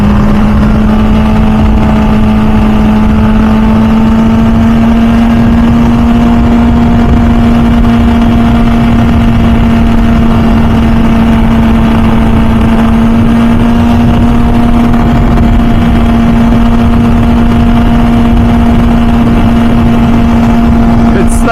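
An MV Agusta F4 Senna with an inline engine drones at a steady high pitch throughout, loud and constant like riding at a held rev, with a wind-buffeted, rumbling background.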